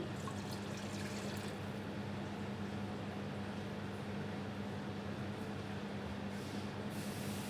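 Steady watery pouring with a continuous broadband wash and a low hum underneath, no voices, lasting several seconds at moderate level.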